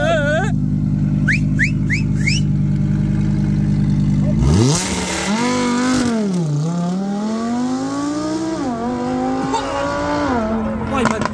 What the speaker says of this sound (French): Launch control, bro!